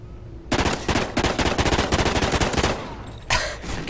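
Loud automatic gunfire from Call of Duty: Ghosts multiplayer, a sustained rattling burst of rapid shots lasting several seconds after a quieter start, with a brief sharper volley near the end.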